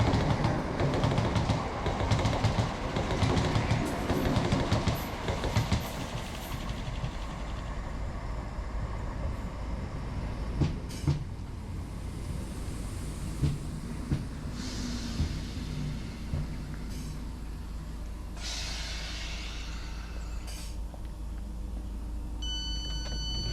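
Rumbling interior of a train heading toward Glasgow Central on a rail-and-sail day trip to the Isle of Arran, with a steady low drone, occasional clunks and brief high squeals, and no talking.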